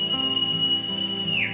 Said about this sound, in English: There's the whistling.